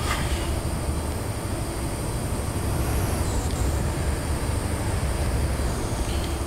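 A Class 43 high-speed diesel train on the Great Western Main Line in Train Simulator 2014 gives a steady, loud rolling rumble with broadband track and engine noise, continuous throughout and without voices.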